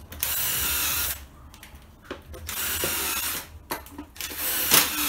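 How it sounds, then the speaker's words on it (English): Power drill pre-drilling screw holes in a wooden beehive box during assembly, several loud bursts of whirring and ratcheting separated by short pauses, close by with no talk. "He pre-drills."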